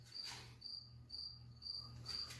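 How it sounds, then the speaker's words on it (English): Crickets chirp in a garage in the morning: short, high chirp bursts repeat at a steady pace over a low constant hum, fairly close and with no voices. "sorry about the crickets in the morning"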